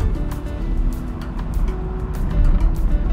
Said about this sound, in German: Beschleunigen wir mal auf 50.